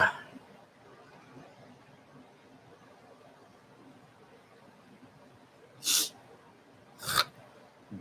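Two short, forceful nose blows a second apart, close to the mic after a quiet stretch of faint room noise.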